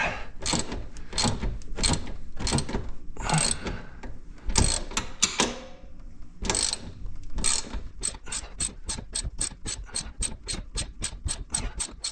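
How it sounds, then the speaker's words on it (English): Factory bolts being worked loose on a Honda 520 Rubicon ATV during a bracket lift install: a fast, steady run of sharp ratchet clicks, close and fairly loud, broken by a few heavier metallic knocks and clunks. "Simply take the factory bolts out."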